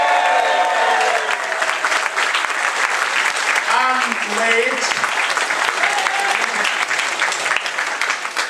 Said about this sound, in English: So give Billy a big round of applause and a cheer